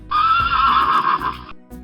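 A toy zebra ride gives off a loud recorded horse neigh, a bright whinny of about a second and a half heard up close, followed by a short clatter.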